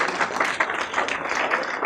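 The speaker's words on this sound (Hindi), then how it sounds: "वेरी नाइस, तालियां मारिए।" An audience at a school annual day celebration claps in a dense, continuous patter of many hands, moderately loud and steady for a couple of seconds without talk.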